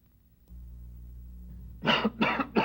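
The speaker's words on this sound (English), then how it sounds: "You've got a nasty, tickling, scratching, annoying cough from a cold" Three harsh coughs from a cold in quick succession, loud and close, following a low steady hum with no talking, in a 1972 television broadcast.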